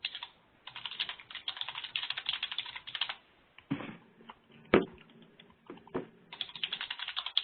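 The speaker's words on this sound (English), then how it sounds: "Could I just ask that who's ever typing could mute themselves?" Rapid, uneven keystrokes on a computer keyboard clatter close by in bursts with short pauses, picked up on an open microphone during an online committee meeting.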